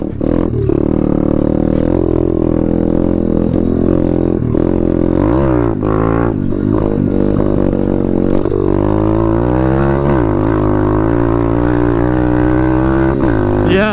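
Chinese pit bike fitted with a new air filter, engine revving hard at full throttle with rising and falling pitch sweeps, close and loud, while a rider's voice breaks in at times.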